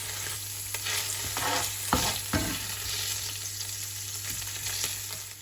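Meat browning in ghee in a pan for rogan josh, a steady close sizzle with spatters and a few sharper pops as pieces are stirred, with no voices present.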